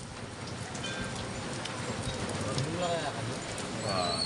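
Steady rainfall patters on a surface as a constant hiss during a Holy Wednesday procession in Guagua, Pampanga, with distant birds chirping faintly over it.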